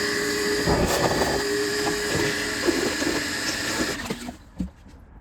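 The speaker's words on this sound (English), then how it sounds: "Draining out the shop vac." Shop vac draining water while cleaning out an outdoor fountain for winter, a steady hissing, gurgling rush with sloshing bursts that thins out and stops near the end, close and loud with no talk.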